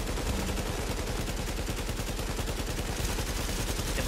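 Sustained automatic gunfire from enemy bots in The Division's Dark Zone, dense rapid shots crackling loudly and continuously throughout with no pause.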